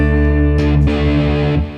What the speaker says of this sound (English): so that's already a pretty good amount of crunch at 12 o'clock on the low pass